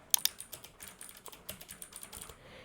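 Close, quiet keystrokes tap out text on a computer keyboard in an uneven run of clicks, with small pauses between bursts.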